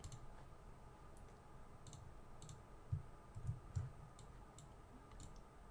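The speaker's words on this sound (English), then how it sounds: "Oh, I keep right-clicking for no reason." Computer mouse clicking at a desk during game-engine work, a scattering of soft, sharp clicks at irregular intervals, quiet and close with no talk.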